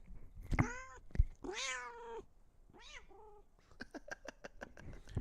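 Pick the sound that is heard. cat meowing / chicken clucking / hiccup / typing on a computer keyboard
cat meowing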